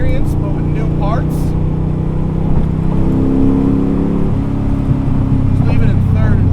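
A Superformance 1965 Shelby Daytona Coupe held in third gear through a corner, its engine droning close and loud with a rising, pulling note as it accelerates out, while someone talks over it.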